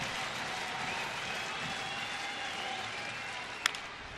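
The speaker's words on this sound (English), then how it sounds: "Crowd comes to life" Baseball stadium crowd during a Seattle at Cleveland game with the bases loaded, a steady, broad wash of distant cheering and applause throughout, with one brief sharp crack near the end.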